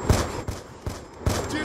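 Gunfire in a first-person shooter video game match, four loud sharp bursts spaced roughly evenly across the short span, close and punchy, with no talk over them.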